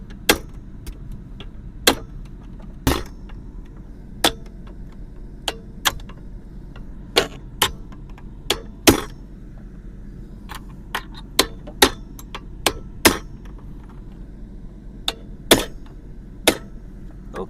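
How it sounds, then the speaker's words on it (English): Pin being hammered into a Chevrolet Silverado center console, a series of sharp metallic taps at irregular intervals, some louder than others, close by with no talking. "the pin is driven all the way through."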